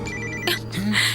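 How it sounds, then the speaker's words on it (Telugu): A phone rings briefly in a Telugu horror film scene, its electronic tone sounding loud and close. "ఇలా వచ్చింది ఫోన్."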